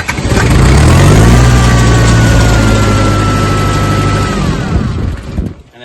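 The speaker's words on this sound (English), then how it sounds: "From cold, the tractor does chug a little bit before it starts" A tractor engine is started from cold, cranking briefly, then chugging steadily, loud and close, for about five seconds before it cuts out and fades.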